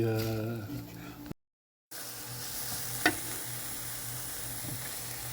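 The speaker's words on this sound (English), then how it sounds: "I love the sound of onions cooking." Onions sizzling in a pan, a steady close hiss of frying with a stirring clack, following a brief voice and a short break in the sound.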